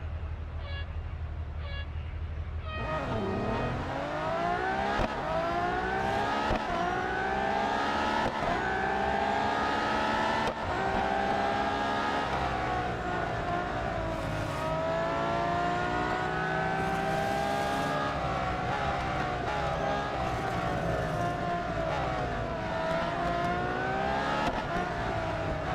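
Ferrari FXX K race car in Real Racing 3 at Silverstone, its engine revving loud and continuous with rising and falling pitch through gear changes, sustained for the whole stretch.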